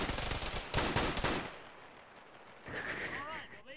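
Bursts of gunfire in the Arma military video game, rapid loud volleys in the first second and a half, then quieter, with voices talking over radio afterward.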